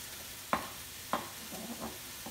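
Curry paste with shrimp juice sautéed in a pan: a low, soft sizzle marked by two distinct spatula strokes and a few lighter stirs, with no voices.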